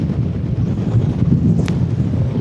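Wind blows across the microphone on a fishing boat at sea, a loud, steady low rumble and buffeting that fills the whole moment with no voices.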